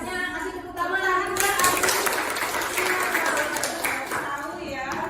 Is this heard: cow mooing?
no